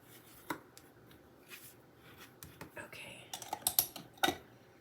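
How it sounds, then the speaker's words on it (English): A bone folder is run along scored lines on cardstock for a fun-fold shaker card, making faint, close scraping strokes and light taps that grow busier toward the end. "use my bone folder to confirm the scores"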